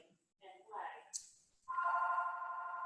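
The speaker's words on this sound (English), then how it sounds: "And I'm sorry about the phone." A telephone rings partway through a conversation in a therapy training session, a sustained electronic tone that starts sharply and continues steadily after brief speech and a short high chirp.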